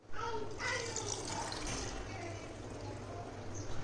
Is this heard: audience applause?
no